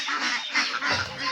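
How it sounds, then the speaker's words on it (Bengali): Grown Khaki Campbell ducks quack and honk together in a brief, dense chorus close by on a poultry farm. "এগুলা সব ওই যে ক্যাম্বেল হাঁস আপনারা দেখছিলেন যে ছোট আছিল, এগুলো অনেক বড় হয়ে গেছে।"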